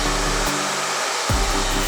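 A blow dryer runs at close range while a round brush styles curtain bangs, a loud steady whoosh with a brief dip in its low hum midway before it surges back.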